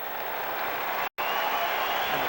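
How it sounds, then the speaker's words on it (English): Stadium crowd at an NFL Broncos at Dolphins game roaring for the Miami defense, a dense, loud, sustained cheer with a split-second cut midway, no talk over it. "the fans come alive for their Miami defense"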